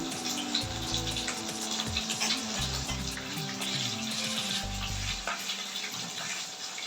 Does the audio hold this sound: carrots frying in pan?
yes